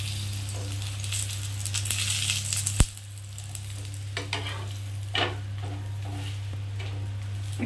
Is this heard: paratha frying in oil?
yes